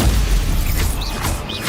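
A Stupefy stunning spell cast in the Hogwarts Legacy video game: a dull, booming magical impact with whooshing, shimmering tones over a steady, loud bed of game noise, continuous for under two seconds.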